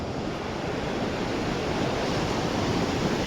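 Sea waves at Juhu beach in Mumbai make a continuous broadband roar of surf, loud and close, with wind noise buffeting the microphone throughout.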